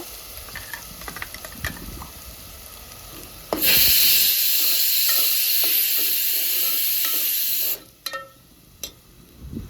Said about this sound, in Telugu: మసాలా బాగా ఫ్రై చేసుకోవాలి పచ్చివాసన పోయేంత వరకు